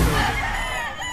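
A rooster crows once, loud and close, a strained drawn-out call filling the short moment.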